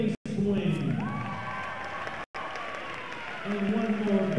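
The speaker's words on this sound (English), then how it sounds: "one more big round of applause for our 7 senior Homestead Spartans" A gym crowd at a girls' high school basketball game applauds the seven Homestead Spartans seniors, continuous clapping and cheering with voices and a public-address announcement over it and a couple of brief dropouts.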